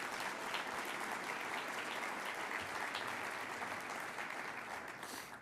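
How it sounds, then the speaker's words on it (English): Applause from the audience at a transportation summit opening session, an even wash of many hands clapping at a distance, steady and fairly quiet, tapering slightly at the end. "Can we give Janet a round of applause?"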